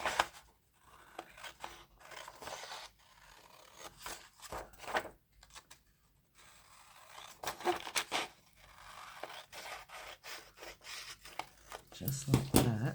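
Scissors snip and rustle through paper while white edges are trimmed for a mushroom craft journal, with intermittent close, quiet cuts and scraping in bursts and pauses.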